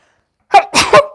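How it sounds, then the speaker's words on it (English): A single sharp sneeze bursts out close by, a quick intake followed by a loud explosive release, with silence before it. "Oh, I'm going to sneeze."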